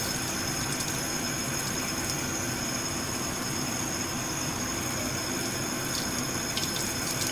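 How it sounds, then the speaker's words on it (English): A tap runs cold water over an action figure, a steady broadband rush of flowing water that continues evenly throughout, close and fairly loud, with no talking. "So I'm going to run under cold water right now."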